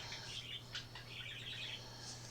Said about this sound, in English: And you hear my birds, they're singing along this morning, just having a good old time.